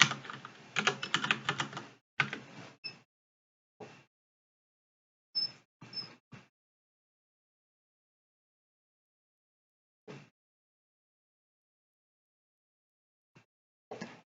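Scattered bursts of typing on a computer keyboard: a quick flurry of keystrokes, then sparse single taps and short clusters separated by silence, close and fairly quiet.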